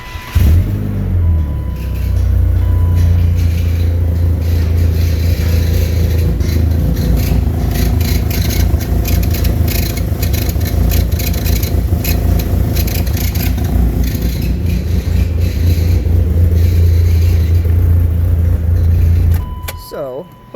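A 1996 BMW Z3 engine with a used alternator idles steadily and loudly at close range with some rattling, then cuts off near the end; a voice speaks faintly over it.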